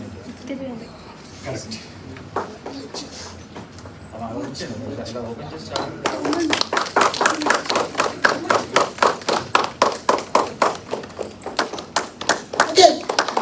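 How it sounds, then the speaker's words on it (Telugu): An audience at a health business event applauds the launch of Ayurvedic products, with talking at first and then dense clapping that swells and keeps going in bursts. "మీ అందరూ కూడా చప్పట్ల మధ్య ఈ ప్రొడక్ట్స్ని లాంచ్ చేయడం జరుగుతుంది."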